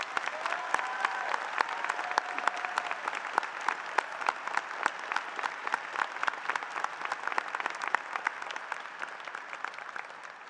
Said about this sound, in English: please join me in applauding her for her service as an educator.